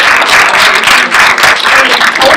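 A live audience applauds a young panelist named Jada at a race-and-gender discussion event, dense and loud clapping sustained throughout with a few fluctuations.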